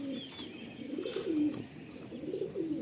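Pigeons at a pigeon loft, cooing in repeated low, throaty rolling phrases that rise and fall across the whole stretch, close and steady with no talking.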